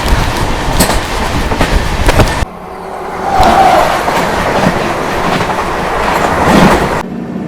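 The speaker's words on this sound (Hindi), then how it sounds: "पूरी ट्रेन से हम लोग का क्रॉसिंग हो रहा है।" An Amrit Bharat train rushes past at a crossing, a loud, close roar of wheels and wagons with rattling clickety-clack, continuous for several seconds with a brief dip in the middle.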